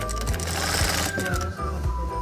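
A sewing machine stitches seams on fabric before seam-sealing tape is applied, a fast continuous mechanical whirr close up with rhythmic needle ticks and no talking.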